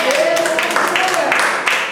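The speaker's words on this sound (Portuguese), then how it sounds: "Vamos aplaudir o Senhor?" A church congregation breaks into rhythmic applause, the clapping loud and close, mixed with voices speaking over it.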